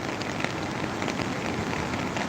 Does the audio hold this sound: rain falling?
yes